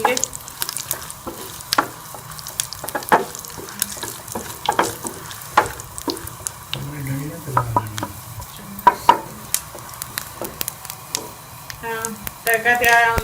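Tadka tempering for restaurant-style moong dal roasts in a hot pan, giving a steady close sizzle and crackle with frequent clinks and scrapes of stirring throughout.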